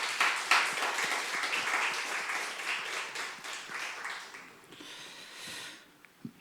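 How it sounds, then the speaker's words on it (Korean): A room full of people at a church prayer service claps steadily, the applause fading out toward the end. "우리 박수로 한번 격려해 주시기"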